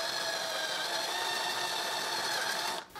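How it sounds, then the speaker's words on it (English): A power driver sinks screws into the wooden leg of a handmade display cabinet, giving a steady, close, whirring motor whine that holds for nearly three seconds and then stops abruptly. "And I drive the screws."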